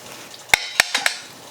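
Metal spoon scraping and clinking inside a pot as beans are mixed into tender, slow-cooked pork, four distinct knocks spaced unevenly over a quiet background.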